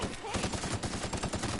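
Rapid gunfire from The Outer Worlds video game, a dense stream of fast shots with regular bullets firing in quick bursts, loud and continuous for the whole stretch.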